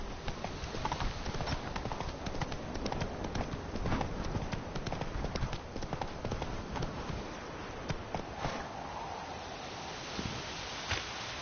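Roach, Geralt's horse in The Witcher 3, gallops with a fast, steady clip-clop of hooves heard up close, continuous throughout with no talk.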